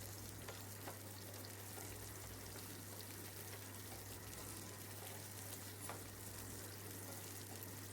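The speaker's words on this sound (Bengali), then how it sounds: "এতে আমি একটা টমেটো এভাবে কেটে দিয়ে দেব, দিয়ে আবারও আমি কিছুটা ভেজে নেব।" Tomato pieces frying in a pan for paneer masala give a steady, close sizzle with soft crackle and occasional stirring scrapes, under a constant low electrical hum, no voices.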